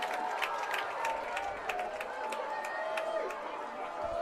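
A high school football stadium crowd at a Boone versus Ballard game cheers and claps steadily throughout, a broad, continuous roar of voices with scattered claps rather than one sharp burst.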